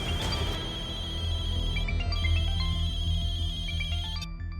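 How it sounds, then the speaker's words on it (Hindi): A mobile phone ringtone plays continuously, a bright electronic melody of quick repeating notes over a dense low background. "और अभी टें टें टें टें टें टें करके बज रहा है"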